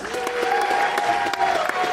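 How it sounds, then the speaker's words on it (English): A live audience claps together at a monster-movie podcast gathering, a steady, dense wash of applause lasting the whole stretch at even loudness. "All right, give him a round of applause."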